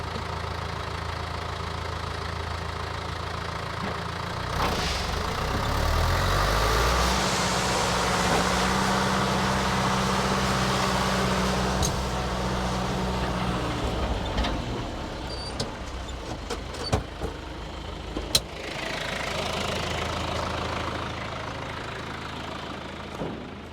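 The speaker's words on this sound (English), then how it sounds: "second gear in high and then full throttle." A truck engine pulling a dumper trailer with a spreader tailgate runs at full throttle in second gear high range, a steady loud rumbling drone with a deepening low tone midway and a few sharp knocks and clatters near the end.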